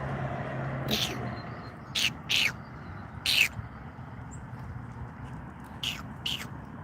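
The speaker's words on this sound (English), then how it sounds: "Those mockingbirds" Mockingbirds calling outdoors, with several short, bright chirps spaced irregularly over a steady background hiss.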